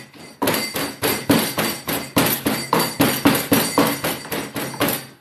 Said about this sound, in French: Désolé, j'ai plein de bruit, des cuillères qui font le bruit.